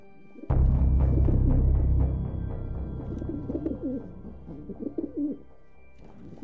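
Pigeons coo in an animated horror cartoon, with a loud low thump and rumble at the start, then repeated soft throaty coos continuing alone at moderate volume.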